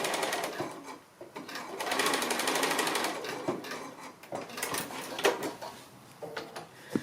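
A sewing machine stitches a zipper pocket with a continuous close whirring run, followed by softer handling clicks and small knocks.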